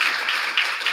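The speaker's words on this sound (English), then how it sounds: "So we better give him a good round of applause for that." A crowd applauds steadily, a dense wash of many hands clapping for a short moment.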